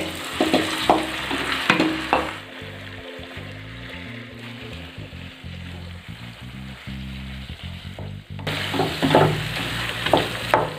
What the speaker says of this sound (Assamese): এতিয়া এনেকৈ ভালকৈ লৰাই দিব লাগিব।